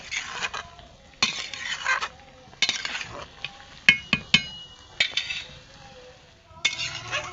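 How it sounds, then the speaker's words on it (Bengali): A spatula stirs banana flower boiling in a pot, making intermittent scraping bursts and metallic clinks against the vessel, close and fairly loud, with short quiet gaps between strokes. "এদিকে মিনু খুন্তি দিয়ে নেড়েচেড়ে দেখছে মোচাটা কতটা সেদ্ধ হয়েছে"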